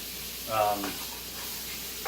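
Chicken sizzles in a frying pan with a steady hiss, heard close up, while a voice speaks briefly over it.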